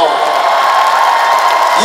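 A concert audience at a show breaks into a brief, dense burst of applause and cheering, with a voice carrying over the clapping.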